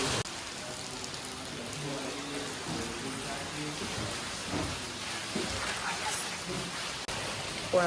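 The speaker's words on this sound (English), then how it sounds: "I'm just getting pelted with water, which is fine." Heavy rain pelts a rider on a motorbike along the Ha Giang Loop in Vietnam, a dense steady hiss of water with wind buffeting, while a voice talks faintly underneath.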